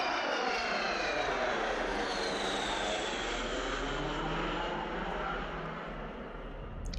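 An Avro Vulcan jet bomber passes overhead with a broad, distant-sounding engine roar and a sweeping, phasing whine that shifts in pitch as it goes by, fading slightly toward the end.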